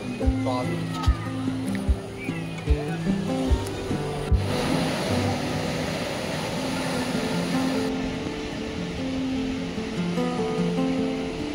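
Ocean surf on the beach at Digha, with a steady, broad wash of breaking waves and wind, under loud music and crowd chatter at first that give way to the continuous roar of the sea.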